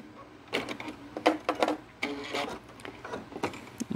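A sewing machine back stitching Cuddle minky plush fabric runs in short bursts of stitching, close and moderately loud, with brief pauses between runs and no talking.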